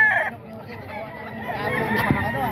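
An eight-month-old golden boy sweater gamefowl rooster clucks at a poultry market, a few short calls over busy crowd murmur and background chatter.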